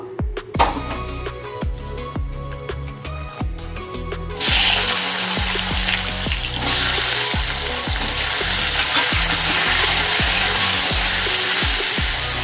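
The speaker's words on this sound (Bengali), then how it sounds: "এই তেলে এবার আমি আলুটা ভেজে নেব" Potatoes drop into hot oil left from frying fish, and a loud, steady sizzle starts partway through and carries on after earlier clinks and scraping from the pan.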